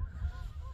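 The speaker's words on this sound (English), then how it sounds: "Boy, can you hear them geese? They sure been noisy out here today." Geese honking outdoors near a bridge over open country, a dense low chorus of calls filling the whole brief moment at moderate distance, with no talk.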